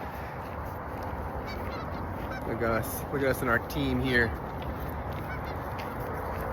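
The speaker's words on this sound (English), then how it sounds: "got a bunch of geese and their goslings just jumping in the water" Geese honking near water where goslings are jumping in, a burst of several loud, nasal honks in the middle, over a faint outdoor background, with a person speaking briefly.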